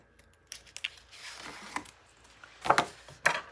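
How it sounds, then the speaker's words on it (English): Tape peels off pieces of a Graphic 45 Wonder of Oz 9 x 9 mini album, giving scattered light handling taps and then two sharp crackling rips near the end. "Taking off all the tape this time."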